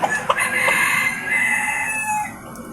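A labuyo rooster crows nearby, one loud drawn-out call that rises and trails off, preceded by a few short clucks.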